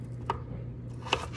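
Knife chopping food on a cutting board during meal prep, two crisp separate strikes close up, each brief and sharp against a quiet background.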